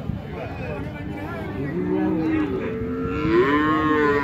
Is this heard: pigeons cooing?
no